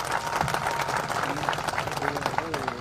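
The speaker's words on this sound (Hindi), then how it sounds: "तो आर्यन OPS के लिए एक बार जोरदार ताली हो जाए।" Audience at an Assam government employees' OPS gathering claps for Aryan OPS, a dense burst of applause running steadily throughout, with a voice speaking over it near the end.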